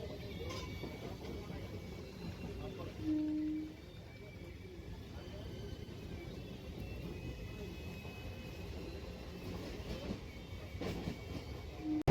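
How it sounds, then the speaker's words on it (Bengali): A train standing just outside Kharagpur gives off a low, steady rumble with faint rail-car noise, a couple of brief tonal hoots, and soft voices talking in the background. "খড়গপুর ঢোকার আগে ট্রেন এখন দাঁড়িয়ে রয়েছে।"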